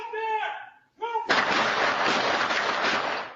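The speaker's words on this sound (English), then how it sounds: "And then seconds later, more gunfire." A neighbor's camera captures gunfire from a street shooting, a loud burst of shots or an extended blast following brief voices, then a sustained roar.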